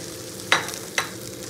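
Rice fries in ghee with turmeric, cumin, crushed ginger and salt, a soft steady sizzle broken by two quick scraping stirs about half a second apart.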